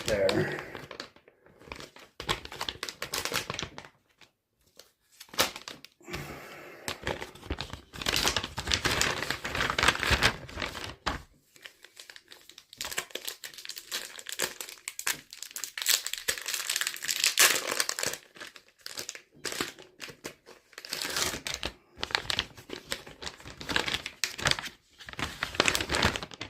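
An MRE flameless ration heater pouch is torn open with loud crinkling, crumpling and ripping bursts of plastic packaging, close up, in bursts separated by pauses, with someone talking over parts of it.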